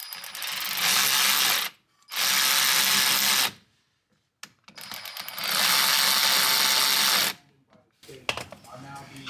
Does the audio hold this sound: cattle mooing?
no